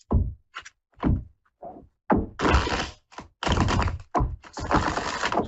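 Tarot cards shuffled during a live psychic reading, heard as bursts of crisp riffling and sharp slaps in quick irregular clusters, close and fairly loud, with short silent gaps between.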